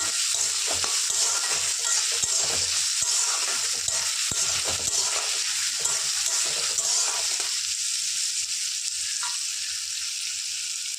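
Onions frying in a pan for soybean curry, a steady loud sizzle close up with intermittent scraping stirs of a spoon against the pan throughout.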